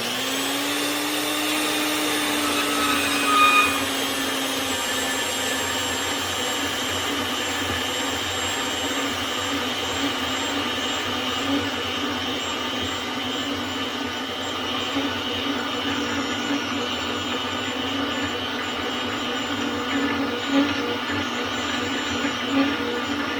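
A VEVOR portable bandsaw at speed 3 cuts a 1/4-inch piece with a steady, loud, whining drone that continues without a break from start to finish, with slight rattles at times.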